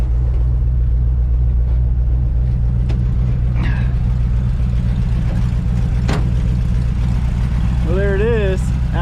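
Engine of a 1962 Chevrolet C10 truck idles and drives with a steady low rumble throughout, close and loud, while someone speaks briefly.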